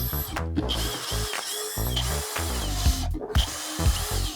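A power drill drives 50 mm screws to fix the lower cam of a Coplanar C-1000 sliding door system, in short bursts of whirring and ratcheting separated by brief pauses, close and fairly loud.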